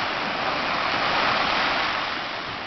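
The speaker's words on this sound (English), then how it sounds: "staring intently at the rhythmic, methodic motion of the waves rolling into the shore." Ocean waves roll steadily onto a sandy beach, a continuous broadband wash of surf close by with gentle swells in loudness and no voices.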